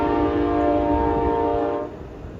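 A train horn blows a loud sustained chord close by in Auburndale, then cuts off near the end, leaving rumbling train noise.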